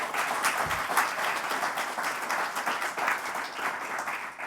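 Audience at the Eurogas tech conference on bioenergy applauding the events team, a continuous, even roar of clapping from a seated crowd, moderately loud throughout with no speech.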